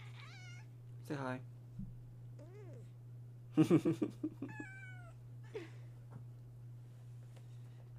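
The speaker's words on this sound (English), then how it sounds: "Here's my cat." A pet cat meows several times indoors, short rising and falling calls spread over a few seconds, close by over a steady low hum, with a person speaking briefly.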